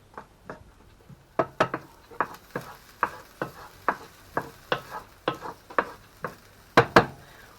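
Onions softening in a pan are stirred with a utensil, giving a string of sharp scraping knocks at an uneven rhythm, roughly a dozen distinct strokes, over a faint low sizzle.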